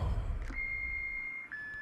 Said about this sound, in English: And let's try the doorbell.